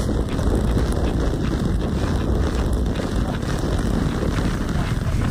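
Strong wind roaring across the microphone aboard a sailing boat off the west coast of Scotland, a constant loud buffeting rush with no voices.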